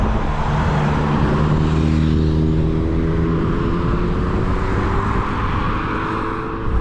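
Steady loud roar of cars speeding past on a highway with no footway, close by and continuous, tyre and engine noise blending into a constant whoosh.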